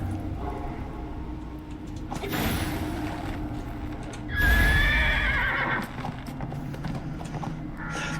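Horse hooves clip-clopping over snow in the Neverwinter video game, a steady plodding rhythm with neighing and whinnying, plus a louder burst of hoofbeats midway against game background sound.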